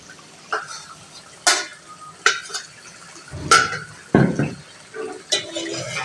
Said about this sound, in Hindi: इसके साथ हम इसको भी अच्छे से मसाले में भूनेंगे ताकि ये हमारा मसाला अच्छा सा इसमें लिपट जाए